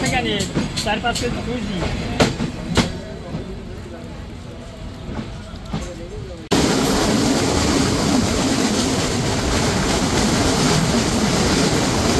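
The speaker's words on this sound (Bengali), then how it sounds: "এরই মধ্যে আমাদের ট্রেনটিও 2 মিনিট স্টপেজ দিয়ে আবার ছেড়ে যাচ্ছে।" Sundarban Express pulling out after a two-minute stop, first faint rattles with voices nearby, then a sudden loud, steady rolling roar of the moving train.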